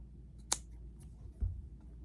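Scissors snip the tip off folded dress fabric, giving one sharp close cut followed by a softer second snip against a quiet background.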